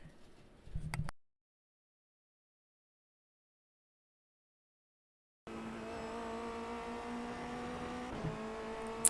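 A Formula race car corners at the Road Atlanta circuit, its engine buzzing loud and close with tire squeal at first, then cutting to silence before the engine returns as a steady high drone that dips briefly as the throttle shifts.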